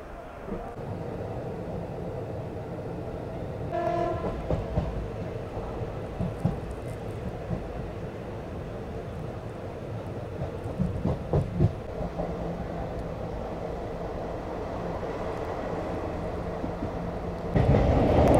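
A steady low rumble of an express train running on tracks near Kolkata, with rattling clatter rising midway and a louder surge near the end.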